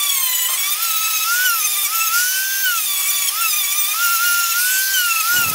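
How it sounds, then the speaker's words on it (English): A Dremel rotary tool whines at high speed as it rounds off the sharp edges of a wooden board-cut catapult, a steady piercing tone that wavers slightly under load, close and continuous until it cuts off at the end. "So what I'm going to now is rip that edge off, the two sharp bits, just run the Dremel round."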